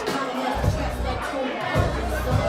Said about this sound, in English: this crowd going crazy for the return of the cookies